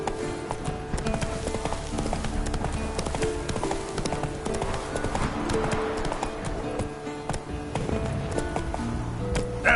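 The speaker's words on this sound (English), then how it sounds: "Come on, Roach." The horse Roach trots along in The Witcher 3 on PS5, hooves clip-clopping in a close, steady rhythm over dense game background sound throughout.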